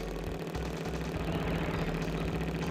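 Motorbike engine in Crash Bandicoot 3 revving steadily through a wheelie, a continuous low droning hum with a constant pitch, loud and close, with no talking over it.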